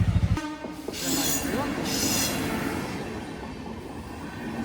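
A passenger train passes nearby, its loud, steady rumble of rolling wagons holding for several seconds after a short opening burst of noise.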